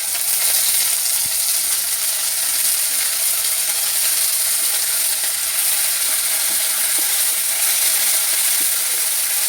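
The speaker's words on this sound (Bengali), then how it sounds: "নিয়ে এবার মাছটা আস্তে আস্তে ওর মধ্যে দিয়ে দিচ্ছি" Koi fish sliding into hot oil over reddish fried chopped onions, giving a steady, bright sizzle that holds level throughout with faint scraping ticks, no voices.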